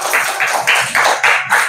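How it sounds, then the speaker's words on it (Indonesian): A group claps in short rhythmic bursts, about six quick rounds of hand claps close by, with no voices over them. "terakhir tepuk tangan dulu buat semuanya"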